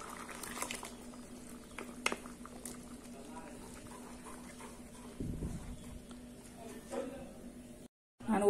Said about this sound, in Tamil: இப்போ தக்காளி நல்லா கொதிச்சிருச்சு.